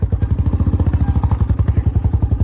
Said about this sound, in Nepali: बाबाले चाहिँ हाम्रो बाइक कुदाउने हुन्छ।